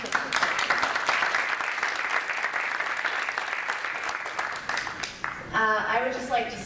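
An audience at a conference applauds, with dense, steady clapping that fades near the end, where a voice begins speaking.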